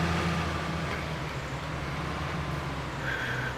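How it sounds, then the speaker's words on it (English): A tractor engine in the video game Farming Simulator 19 keeps up a steady low droning hum as it drives, even and continuous with a faint tonal whine, and no talk. "let's turn the tractor around"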